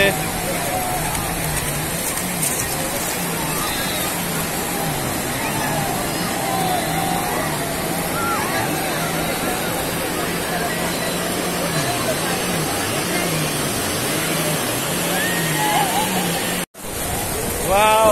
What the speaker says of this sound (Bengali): পানির শব্দটা শুনুন শুধু। এই চলে আসছে পানি, এই যে পানি, সাগরের ঢেউ আমাদের পায়ের কাছাকাছি চলে আসছে।